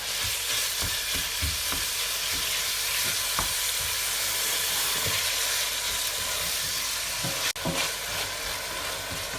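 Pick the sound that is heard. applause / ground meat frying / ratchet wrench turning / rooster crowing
ground meat frying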